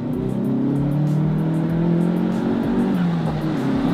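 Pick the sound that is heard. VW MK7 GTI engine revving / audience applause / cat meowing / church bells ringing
VW MK7 GTI engine revving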